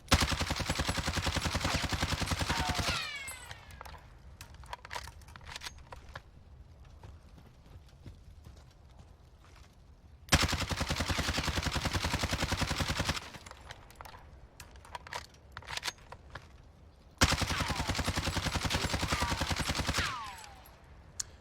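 The CR-56 AMAX rifle in the game Warzone fires in three long full-auto bursts, each a rapid, even string of loud shots, separated by quieter gaps.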